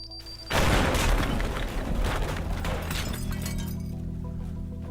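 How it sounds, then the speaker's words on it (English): A bomb blows up in the Teardown video game, a sudden loud boom followed by a dense wash of crashing, shattering debris that settles into a lingering low rumble. "That was a good explosion."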